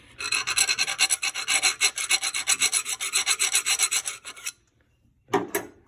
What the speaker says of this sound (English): I can probably file down some of this.